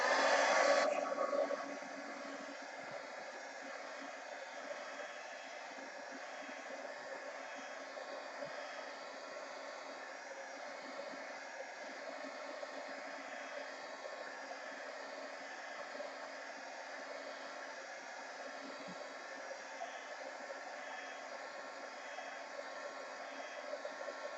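A heat gun blows steadily to dry a mixed media art journal page, a loud start easing into a continuous even whir that holds for the whole stretch with no talk.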